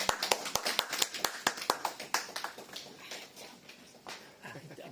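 A church congregation claps to welcome a pastor at a Sunday service: sharp, scattered hand claps that start dense and loud, then thin into lighter, uneven patter, with no talk over them.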